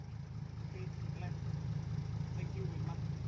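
A six-wheel truck idles steadily throughout, a constant low rumbling drone with faint, scattered sounds above it and no clear talk.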